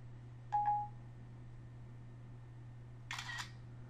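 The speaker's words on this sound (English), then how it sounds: "now I'm going to make it take a screenshot" A jailbroken 2011 iPhone takes a screenshot by voice command: a brief faint chime, then a few seconds later a crisp camera-shutter click, both quiet against near silence.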